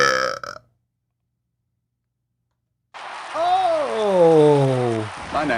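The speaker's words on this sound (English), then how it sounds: "Hold on, I got a burp." A man lets out a long, loud burp after a short silence; it is close and rises and falls in pitch over about two seconds, and a brief voice is heard before the pause.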